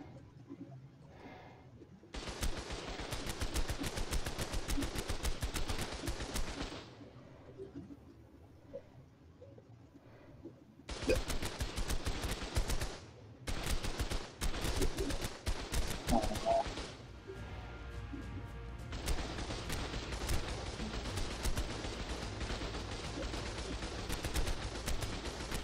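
Bursts of rapid gunfire from the video game Ark, firing in long sustained volleys separated by short pauses, loud and dense throughout with no speech.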